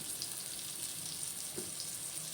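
Ginger garlic paste with a little turmeric frying in hot oil in a pan for egg biryani, a soft steady sizzle with faint crackles throughout and no voices.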